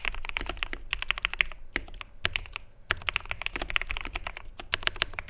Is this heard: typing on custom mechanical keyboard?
yes